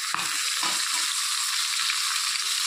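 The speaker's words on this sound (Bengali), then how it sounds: "তেলটা গরম হয়ে গেছে, এখন তেলের মধ্যে মাছের মাথাটাকে দিয়ে দেব। এটা হচ্ছে কাতলা মাছের মাথা।" Katla fish head frying in hot oil, a steady close sizzle and crackle throughout, with a few low knocks of the fish being set down in the pan.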